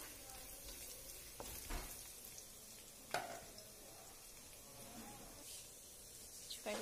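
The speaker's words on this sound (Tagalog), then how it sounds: "Fry lang to hanggang mag-brown." Rice noodles frying in a pan for char kway teow, giving a steady low sizzle and hiss throughout with a few brief clatters of stirring.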